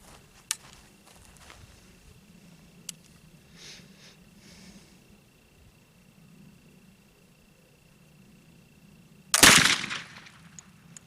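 A single loud gunshot from a firearm loaded with homemade black powder, a sharp blast with a short decaying roar, preceded by several seconds of quiet outdoor ambience and faint small clicks.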